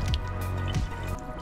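Water drips at a hotel hand-washing sink, with two or three soft, squishy drops landing close by over a low steady hum.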